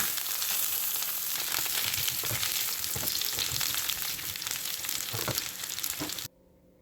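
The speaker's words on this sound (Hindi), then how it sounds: "पैन में थोड़ा सा ऑयल डाल के इनको फ्राई करना है" Potatoes frying in a little oil in a pan for creamy potato, a loud continuous crackling sizzle with occasional stirring taps that stops abruptly near the end.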